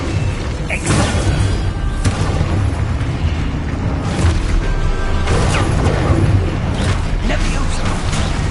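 Expulso blasting spells in Hogwarts Legacy go off as several loud booming explosions with crashing bursts, layered over constant combat noise.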